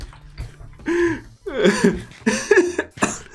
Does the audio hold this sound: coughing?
yes